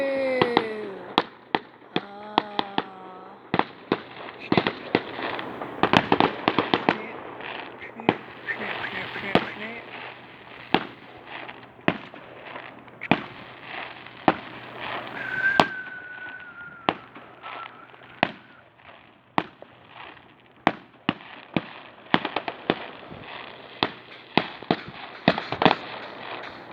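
Bonfire night fireworks in Evesham, 2016, burst in a long run of sharp bangs and crackles at irregular intervals, with people talking in between.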